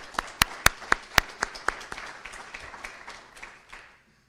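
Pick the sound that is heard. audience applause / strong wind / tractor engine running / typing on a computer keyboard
audience applause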